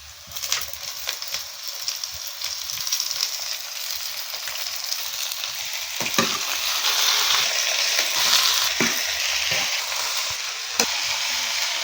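Amaranth leaves fry in oil with chili and onion, a dense continuous sizzle that grows louder partway through, punctuated by scraping stirs and occasional crackles.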